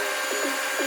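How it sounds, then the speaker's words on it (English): A drum sander flattens a wooden step stool workpiece, a steady loud whirring drone with short rising scrapes as the wood feeds through, no talk. "using my drum sander here to flatten everything again."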